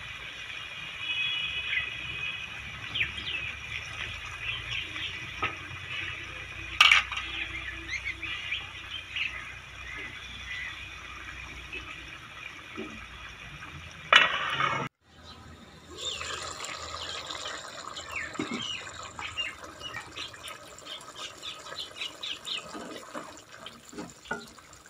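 Water poured into a pot of cauliflower and chana dal sabzi, a steady trickling splash lasting several seconds, with a clunk of the pot and softer sizzling and stirring afterward.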